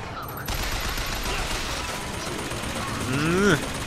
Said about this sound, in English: Okay, now is it shooting me? Yeah, it's shooting me.